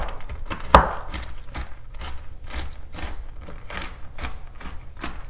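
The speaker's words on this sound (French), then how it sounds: "On va commencer par hacher les noix." Pecan nuts chopped with a knife on a board, a brisk, even run of close, crisp taps with one sharper knock near the start, no voices.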